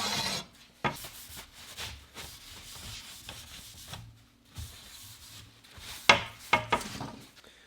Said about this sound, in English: the edge of this file working pretty good, just scratching it up